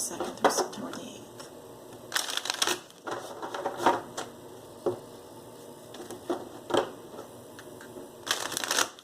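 Tarot cards being shuffled by hand in bursts of crisp riffling and slapping, several separate shuffles spaced a second or two apart, close and fairly loud, with a voice speaking in between.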